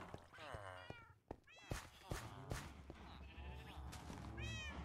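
Cats meow repeatedly in the Minecraft video game, including a Siamese cat, with several short bleating cries spread across the moment under quiet background sounds.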